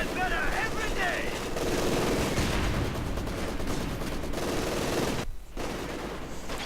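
Company of Heroes 2 battle with Maxim machine gun fire, dense crackling bursts and distant booms running continuously under a commentator's voice.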